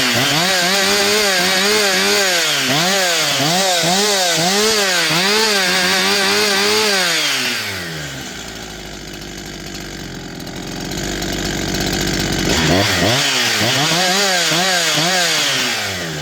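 A Husqvarna 372XP or Holzfforma G372XP chainsaw revs loudly in repeated rising and falling surges, drops to a rough lower drone, then climbs back into more revving bursts.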